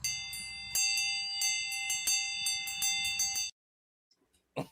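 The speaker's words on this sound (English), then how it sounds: "I gotta hit the bell" A small bell struck repeatedly to close a pub-themed livestream show, giving bright ringing dings in an irregular rhythm that stop abruptly, followed by near silence and a brief noise at the end.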